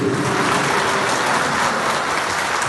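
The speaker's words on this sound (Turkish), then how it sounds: "Şöyle kuvvetli alkış istiyoruz Muhammed kardeşime." Dense, steady applause from a wedding crowd, many hands clapping loudly and evenly throughout with no voices standing out.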